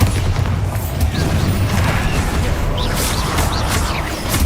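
A Bombarda spell explodes in Hogwarts Legacy, a loud booming blast within dense, continuous game noise and crackling effects, with no talk over it.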